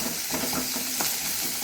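Ash gourd frying in a spoonful of ghee in a pan gives a steady, soft sizzle and hiss with faint stirring clinks close by.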